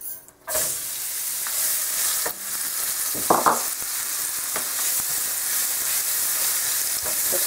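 Onions frying in a pot for Nigerian cooking, a loud continuous sizzle and hiss broken by a few scrapes and knocks of the spoon as they are stirred.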